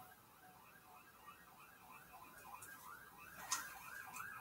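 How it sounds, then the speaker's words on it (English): A distant siren cycles up and down in a steady wailing rhythm, faint and far off, with a few small knocks nearby. "Sounds like a siren out there."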